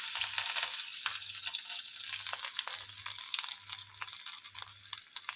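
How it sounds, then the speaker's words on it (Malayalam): Mustard seeds, red chillies and curry leaves fry in hot coconut oil, a steady close crackle dotted with sharp seed pops, while a low pulsing hum repeats underneath. "ആദ്യം വെളിച്ചെണ്ണ ഒഴിക്കുക, കടുക് പൊട്ടിക്കുക, ഈ ചുമന്ന മുളകും കരിയാപ്പിലയും ഇട്ട് നന്നായിട്ടൊന്ന് മൂപ്പിക്കുക"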